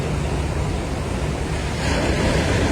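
Pacific Ocean waves wash steadily in a broad, continuous roar of surf, mixed with wind noise on the microphone, with no voices.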